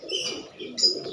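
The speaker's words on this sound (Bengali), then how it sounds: "আপনারা দেখতেছেন কবুতরগুলো" Pigeons, including homer and Giribaz tumbler types, coo softly at close range, with short throaty murmurs over a brief stretch and no talking.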